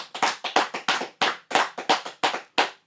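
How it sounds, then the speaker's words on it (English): A small group claps in a steady, loud run of about a dozen sharp hand claps, close by and with no talk over them. "Can I get a round of applause?"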